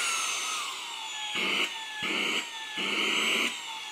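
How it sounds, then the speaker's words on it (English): A Hoto handheld vacuum with its vacuum attachment runs alone and nearby, giving a steady high motor whine that swells louder in three separate surges. "And that's how you use the vacuum."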